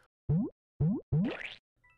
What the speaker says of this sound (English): It's got Super Mario inspired sound effects as well,